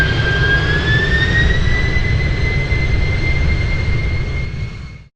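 A Virgin Australia jet climbs just after takeoff, its engines giving a loud, steady roar with a rising whine, heard close from inside the cabin until it cuts off abruptly.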